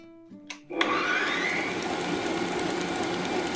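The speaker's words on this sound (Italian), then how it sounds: "mettiamo in planetaria le uova, lo zucchero. Adesso facciamo montare a velocità medio-alta" A stand mixer whipping eggs and sugar at medium-high speed: a few short clicks and starts, then the motor spins up into a steady, loud whirring hum that continues to the end.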